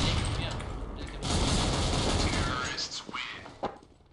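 Bursts of gunfire from a video game shooter, rapid shots and rattling clusters at moderate level over a busy game mix, with quieter scattered shots toward the end.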